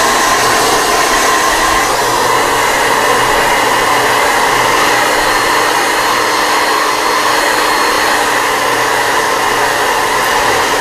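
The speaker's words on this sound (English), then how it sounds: "Now maybe you can hear me over the dryer." A hair dryer on its high setting roars close by, drying paint, a constant loud whooshing hum that stays steady the whole time.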